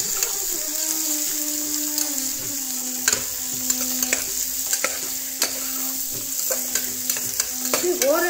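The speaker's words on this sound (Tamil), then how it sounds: "காயை மட்டும் அந்த எண்ணெயில் நல்லா வதக்கிட்டு பாதி வேக்காடு எண்ணெயிலேயே" Carrots and mixed vegetables sauté in hot oil for sambar, a steady sizzle broken by repeated scraping and clinking as the pan is stirred, with no talking.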